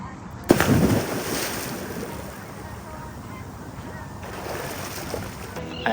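Someone wades and jumps into warm, shallow water about two feet deep, a sharp splash followed by steady sloshing and churning water that continues for several seconds.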